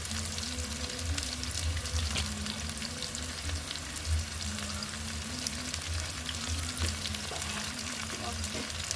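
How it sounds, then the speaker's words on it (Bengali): Onions fry to a reddish brown in a pan, a dense continuous sizzle that stays loud and close throughout, with a faint background hum and no talk. "দেখতে পাচ্ছেন বন্ধুরা পেঁয়াজটা লাল লাল করে ভেজা হয়ে গেছে"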